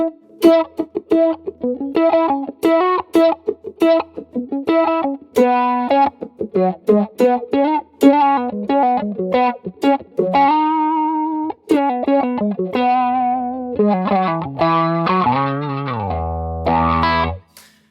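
Distorted electric guitar phrases run through a sweeping auto-wah filter on a Fractal FM3, notes and chords shifting in tone as they bloom, loud and up close, no talking.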